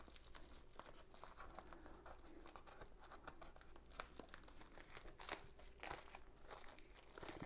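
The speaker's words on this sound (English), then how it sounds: "Get this plastic off the box." Plastic wrap is being torn and crinkled off a webcam box, a close, continuous crackling and crumpling with sharper rips along the way, with no talking.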